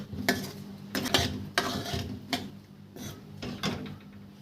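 Garlic pickle is transferred into a bowl with a spoon, giving several sharp metallic scrapes and clinks at irregular intervals. The clatter is close and fairly quiet, with no talk.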